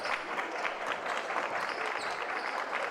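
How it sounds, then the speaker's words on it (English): Crowd at a West Virginia junior varsity high school basketball game between Logan and Tug Valley, clapping and cheering steadily in the final seconds, with a dense wash of applause that sounds moderately distant. "the crowd's starting to get into it here with 30 seconds to go"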